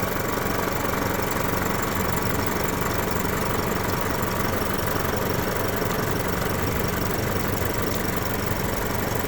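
An Isuzu diesel engine in a Mazda BT50 runs steadily after its injectors are bled, a close, continuous idling clatter with no talk.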